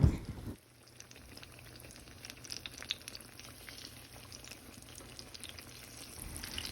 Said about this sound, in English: we're going to go ahead and fry up our eggplant